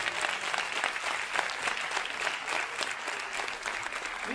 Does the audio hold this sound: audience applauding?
yes